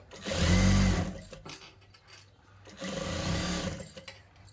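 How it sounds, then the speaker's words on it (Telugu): An electric sewing machine runs in two close bursts, about two seconds and then just over a second, while stitching pleats into a puffed blouse sleeve, with a short quiet gap between runs. "అనుగుడు కుట్టు అనేది వేసుకోవాలి నీట్గా వచ్చేటట్టు"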